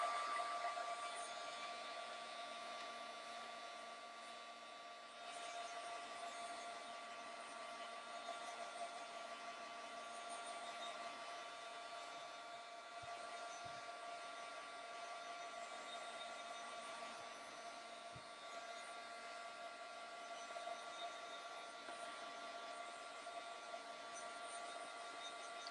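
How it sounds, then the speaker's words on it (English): Heat tool heat-setting a mixed media card: a steady, even blowing whir like a hair dryer, continuous and unbroken for the whole stretch at moderate loudness, with no voices. "we're going to give them a very, very quick heat set"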